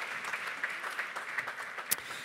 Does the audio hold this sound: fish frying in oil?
no